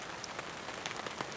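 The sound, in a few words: rain falling in the woods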